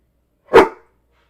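One sharp, loud dog bark indoors in a house, a single burst standing alone in otherwise silent surroundings.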